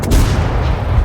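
A tank cannon firing in World of Tanks, a single loud, heavy blast with a dense rumbling body that fills the brief moment.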